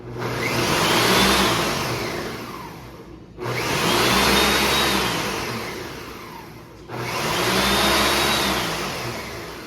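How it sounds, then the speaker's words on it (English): A blender motor whirs loudly in three long surges with brief pauses between them, rising and falling in pitch as it blends ginger and onions. "So now it's in the blender. We're gonna blend it"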